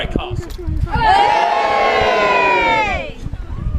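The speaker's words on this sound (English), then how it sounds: "I expect to hear a big loud cheer when I say" A crowd of visitors at Warwick Castle cheering and whooping together in a loud, sustained roar lasting about two seconds, preceded and followed by a voice.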